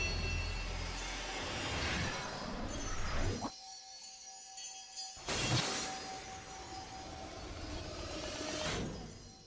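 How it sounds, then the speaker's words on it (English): A D-sword breaks apart in the visual novel Chaos;Head Noah. There is a bright, glassy shattering crash over a steady game backdrop, then tinkling debris as a drone lingers, with no talking. "Was that Norose's D-sword shattering?"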